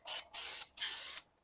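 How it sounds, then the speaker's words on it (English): Brake cleaner sprays onto the brakes of a Toyota Highlander in three close, hissing bursts, the last one the longest. "cleaning spray."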